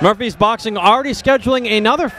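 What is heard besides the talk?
No distinct noise like a dog, phone or traffic.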